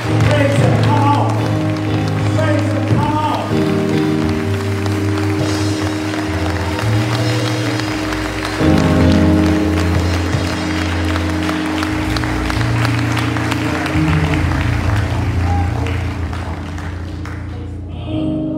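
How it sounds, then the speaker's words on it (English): A church congregation claps in praise during a worship service, a steady loud patter of many hands running under organ and band music with strong sustained bass chords throughout. "I want you to give the Lord a great big hand clap of praise."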